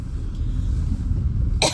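A person in a family dinner setting, out in the cold while eating ice cream, gives a short, sharp cough near the end, loud and close over steady low background rumble.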